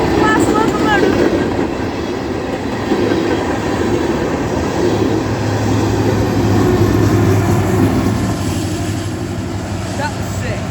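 A Bessemer & Lake Erie freight locomotive passes close by at night: a loud, steady rumble with rail clatter that holds without a break throughout.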